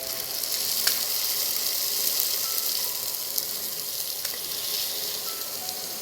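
Chicken goes into frying masala on an induction stove and sizzles steadily, a close, continuous hiss with a few faint clicks of a utensil.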